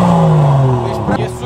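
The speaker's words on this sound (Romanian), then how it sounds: "E același sunet tare de la downpipe, numai că nu mai avem popsuri." A BMW with a modified downpipe accelerates with a loud, booming exhaust drone that rises and then falls off, close and strong, followed by a brief rougher burst near the end.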